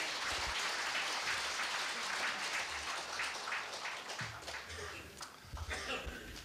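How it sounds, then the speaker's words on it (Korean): Moderate applause from an audience at a political party meeting fills the room, steady clapping that thins slightly toward the end, with a few scattered coughs. "큰 박수 부탁드리겠습니다."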